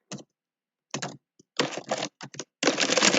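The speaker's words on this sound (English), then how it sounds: "So maybe I'm typing, right?" Bursts of typing on a computer keyboard during a competitive programming session: short clusters of close, crisp key clicks separated by pauses, ending in a longer dense run, with no speech.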